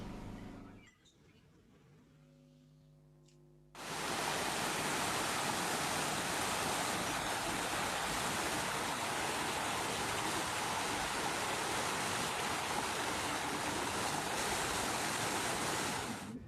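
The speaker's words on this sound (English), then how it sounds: "In the video you can see Lindalani Hlongwane doing a mini-SAS in a natural stream bubbling over the rocks" Shallow natural stream bubbling and rushing over rocks, a steady loud broadband wash that starts abruptly after a few seconds of quieter low rumble and continues unbroken to the end.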